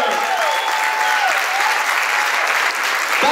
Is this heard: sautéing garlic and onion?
no